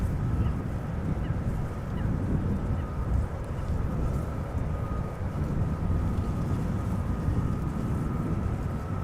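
A distant airliner approaching a runway at Amsterdam Schiphol gives a steady low roar with a faint whine, continuous and even for the whole stretch, partly blurred by wind on the microphone.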